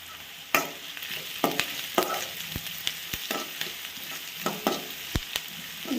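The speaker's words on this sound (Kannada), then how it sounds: "ಈರುಳ್ಳಿ ಚೆನ್ನಾಗಿ ಎಣ್ಣೆಲೆಲ್ಲ ಹುರ್ಕೊಂಡು, ಇದು ನೋಡಿ ಹೀಗೆ ಬಿಡಿ ಬಿಡಿ ಆದಮೇಲೆ" Onions frying in oil in a pan for a Kannada home-style cooking dish, with steady sizzle broken by repeated sharp scrapes and knocks of a spoon stirring, close and moderately loud, no talk.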